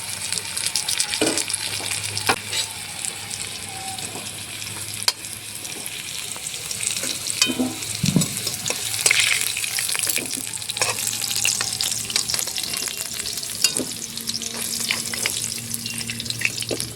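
Squash pieces sizzle steadily in hot oil, being stirred and turned, with scattered clinks and scrapes of a utensil against the pan throughout; no one speaks.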